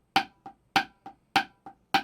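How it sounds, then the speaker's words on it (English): A marching snare exercise alternating loud accented downbeat strokes with softer taps in between, in a steady, crisp, close rhythm with no other sound. "The way we're going to expand on this is we're going to add accents to all of the downbeats."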